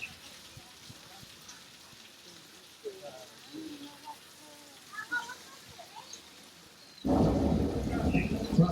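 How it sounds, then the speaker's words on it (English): Quiet ambience with faint scattered chirps, then a sudden dense hiss of falling water from hidden overhead sprinklers simulating heavy rain on a Universal Studios tram ride, starting loud and steady. "rain is created by an overhead sprinkler hidden from view"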